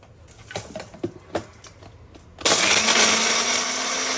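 An Agaro portable personal blender whirs loudly and steadily, starting abruptly after a few light taps and clicks, a dense close motor whine that holds for the rest of the moment.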